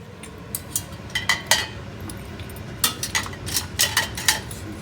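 Glass jam jars clink and rattle as they are handled in a home kitchen before sterilising, with scattered bright taps in two clusters over a quiet background.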